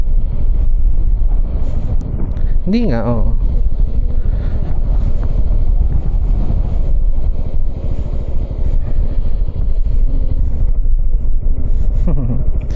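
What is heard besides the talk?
wind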